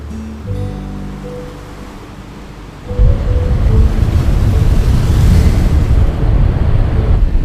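Sea waves break on a beach in the Konkan region, a loud continuous roar of surf with steady wash and some wind noise over the microphone after a quieter opening.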